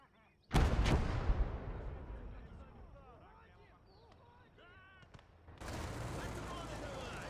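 Mortar artillery fire in the World War II game Gates of Hell: a loud blast opens, booming and decaying into rumble under talk, followed later by another sustained roar of firing.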